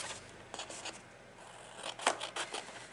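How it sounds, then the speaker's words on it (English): Scissors snip through paper box flaps in a few short, faint crisp cuts spaced irregularly, close and quiet with no talking. "So we're just cutting in towards the center"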